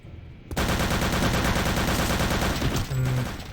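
Rapid automatic gunfire in a video game erupts after a brief quiet start, a dense, loud burst of shots sustained for nearly three seconds before a short tonal game sound.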